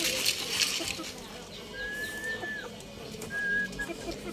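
Pigeons, including grizzle birds, heard as faint whistling tones and soft chirps over steady outdoor background noise, with someone talking over them.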